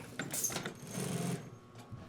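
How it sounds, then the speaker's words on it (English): A sewing machine stitches binding onto a bag in a short, quiet burst, running briefly close by before trailing off. "Now we're doing the binding, which is the final sewing step."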